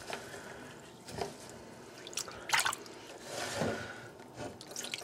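Rinsing water drains off rice into a sink, coming as soft intermittent splashes and trickles, fairly faint and close.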